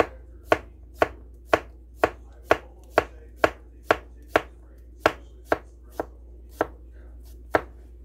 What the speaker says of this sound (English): I am going to go ahead and finish slicing these up